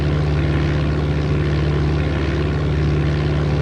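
A light aircraft engine drones in Flight Simulator 95, a loud, steady propeller hum with an unchanging pitch throughout and no voices.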